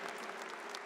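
A crowd at a Catholic gathering with Padre Marcelo Rossi applauds for Padre Jonas, producing a dense, steady wash of clapping throughout the short moment.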